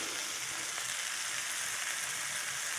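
Green papaya stir-frying in a hot pan for a vegan dish gives a steady, even sizzle and crackle that carries on without a break and with no talk.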